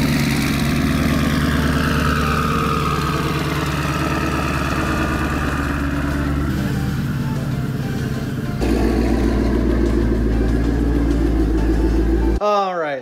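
A 2019 Ford Mustang GT with twin turbos and a Corsa exhaust idles with a deep, steady, loud rumble that shifts in pitch partway through, with a person talking over it in cold outdoor air.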